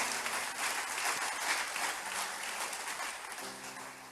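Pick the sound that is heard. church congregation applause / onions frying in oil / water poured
church congregation applause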